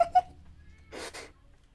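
A cat gives two short meows at the start, followed after a pause by a longer, louder yowling cry, fairly close and clear.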